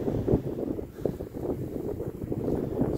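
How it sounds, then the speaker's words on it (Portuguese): Strong wind blowing across a large reservoir, the Boqueirão de Piranhas dam in Paraíba, Brazil, a loud continuous rumbling buffet on the microphone with gusty surges and no talking. "vento muito forte."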